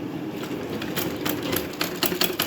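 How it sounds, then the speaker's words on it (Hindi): A sewing machine stitches a blouse sleeve, its steady mechanical whirring running close and continuous with small rhythmic pulses as the needle works, and no one speaks. "सिलाई जहाँ से स्टार्ट करें वहाँ पे थोड़ी डबल सिलाई लगा दें"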